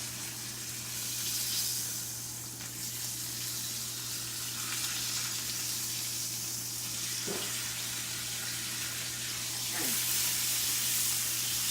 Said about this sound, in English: Now, I think that I might be turning the steaks about now.